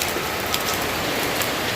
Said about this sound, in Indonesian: Ini lagi hujan gerimis, mulai deras ya, hujannya mulai deras.